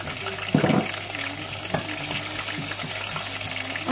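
Food fries in a pan with a little oil, giving a steady close sizzle with scattered pops and brief clinks of stirring throughout.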